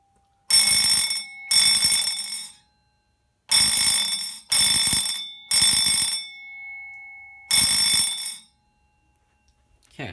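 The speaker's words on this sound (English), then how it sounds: "This bell is actually pretty quiet." An electric alarm bell rings loudly in six separate bursts, each about a second long, with short silent gaps between them.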